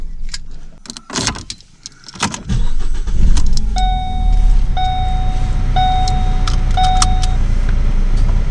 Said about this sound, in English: Gotta turn the car off.